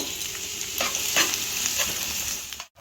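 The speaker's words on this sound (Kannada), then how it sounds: "ಇದಕ್ಕೆ ಎಣ್ಣೆ ಬಿಸಿ ಆದಮೇಲೆ ಈರುಳ್ಳಿನ ಹಾಕ್ಕೊಂಡು ಸ್ವಲ್ಪ ಫ್ರೈ ಮಾಡ್ಕೋಬೇಕು" Onions fry in about three spoons of hot oil in a pan, a steady close sizzle with brief stirring scrapes, ending in a short sharp dropout.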